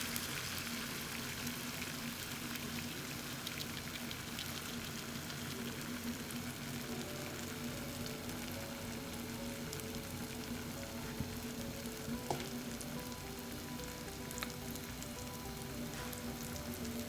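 Zeera paratha mixture sizzling in hot ghee, a steady dense frying crackle close by with a few faint clinks, no talking.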